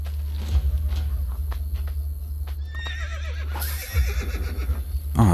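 A horse in the Assassin's Creed Brotherhood video game whinnies loudly in a long, wavering neigh, with hoof clip-clops and footsteps over a constant low game rumble and no speech.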